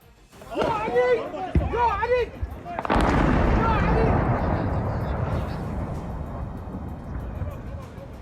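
A person speaks excitedly, then a rocket hits the ground in Baghdad and a sudden loud explosion bursts and rumbles on, its roar slowly fading over several seconds.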